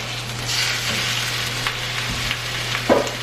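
Pork loin sears in a hot pan with a continuous, fairly close oily sizzle and a few brief scrapes and shifts of the meat, with no one talking.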